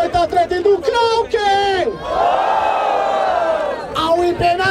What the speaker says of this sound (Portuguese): Barulho para as irmãs do Moita Treta e do Krauk